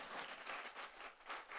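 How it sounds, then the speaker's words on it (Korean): A church congregation applauding together, a soft, distant wash of many hands clapping in uneven swells, faint and without speech. "하나님께 영광의 박수입니다"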